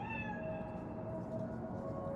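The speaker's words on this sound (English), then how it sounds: "It is a cat spirit." A cat meows in the video game Cyberpunk 2077, a single drawn-out, fairly loud mew with a steady tonal whine, heard alone with no talking.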